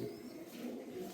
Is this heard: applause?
no